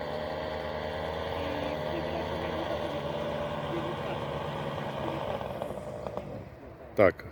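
A paramotor engine runs steadily at a strong, continuous drone with a dense harmonic hum just before landing at a Polish fly-in on a foggy morning, then fades and breaks up near the end with a brief loud knock.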